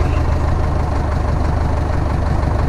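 A tractor pulling a plough idles with a steady, loud low engine rumble continuously throughout, with no talking and no change in pace.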